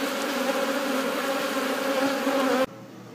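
Honeybees buzz in a Florida bee yard as a close, steady, loud drone with a bright hum that holds evenly before cutting off abruptly near the end.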